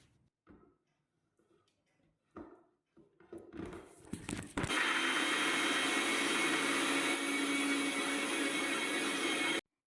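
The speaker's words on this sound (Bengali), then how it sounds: "এই দিয়ে আর অল্প একটুখানি জল দিয়ে ভালো করে মিক্সিতে পেস্ট" A kitchen mixer grinder blends green chillies, ginger and coriander leaves with a little water into a paste. A few handling knocks come first, then the motor starts with a loud, steady roar that continues to the end.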